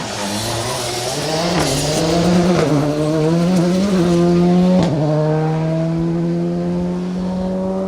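A rally car at speed on Stage 5 of the Colin Ellmore Memorial Rally 2025 roars past close by, its engine note rising and falling with a brief tyre squeal and gritty spray of gravel and muck onto the road.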